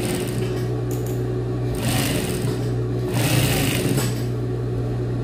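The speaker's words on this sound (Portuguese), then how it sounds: "Vou costurar agora." A sewing machine stitches a seam on a pair of pants, its fast even whirring loud and close, rising in brief bursts with short pauses between them.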